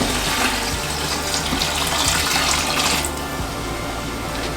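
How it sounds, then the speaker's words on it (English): About four cups of water pour in a steady, rushing stream into a pot of ground beef chili soup with onions and chili seasoning, loud and close throughout. "we're gonna add about 4 cups of water"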